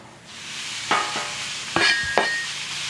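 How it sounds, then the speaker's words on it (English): Bacon chunks sizzle while rendering on a Blackstone griddle, a steady frying hiss broken by a few sharp metal spatula scrapes and taps against the flat-top. "What we're doing here, we're rendering the bacon."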